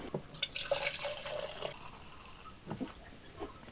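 Liquid concentrate pours into a container of water, making a close, quiet splashing trickle with a few drips, then settling into softer dribbles.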